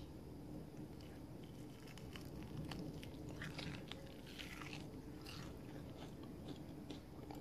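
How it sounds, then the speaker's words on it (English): Someone bites and chews a crunchy quinoa salmon patty close to the microphone, a run of faint crisp crunches and mouth sounds over a quiet steady background. "Let's listen for crunch."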